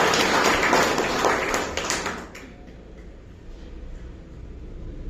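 Enthusiastic crowd applause at a community honour ceremony, loud dense clapping for about two seconds that then fades away into quiet room tone.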